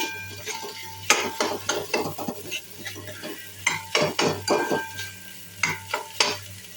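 Boiled, cut potatoes with turmeric and green chilli pieces are stirred in a frying pan, a spoon scraping in repeated bursts over a low steady hiss of sizzling, close and clear with no talk.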